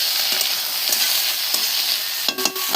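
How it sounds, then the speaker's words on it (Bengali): Potatoes and onion stalks frying in oil, a loud, dense, steady sizzle with faint periodic stirring scrapes and a couple of sharper clatters near the end. "যে আলু পেঁয়াজ কলির ভাজা।"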